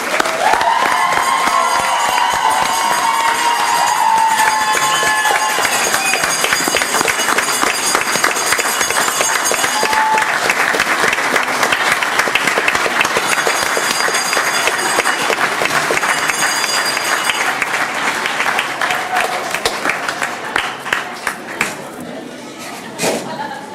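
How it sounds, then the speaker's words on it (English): Board of education meeting audience applauding retirees, a long, loud, sustained round of clapping from a large room with some cheering mixed in, lasting over twenty seconds and tapering off near the end. "Can we give a big round of applause for our retirees?"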